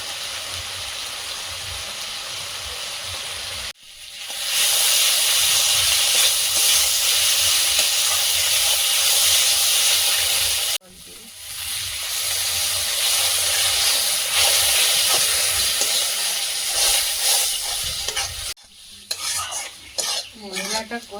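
Spice paste of ginger, garlic and Kashmiri chilli sizzling loudly in a pan, a steady frying hiss broken by two short pauses as it is stirred, with pot clatter near the end; no talking.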